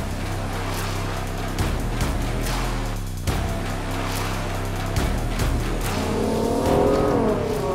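A Ferrari GTC4Lusso's naturally aspirated V12 revs hard and loud, rising and falling through several sharp gear changes in a continuous, close, high-pitched howl with no talk over it.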